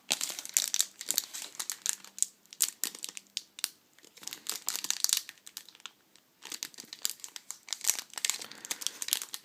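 A sealed Pokémon booster pack, tightly sealed, has its foil wrapper torn and crinkled open up close, giving dense bursts of crackling plastic with short pauses between them and no talk.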